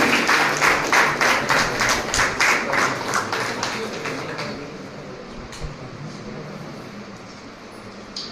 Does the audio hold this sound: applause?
yes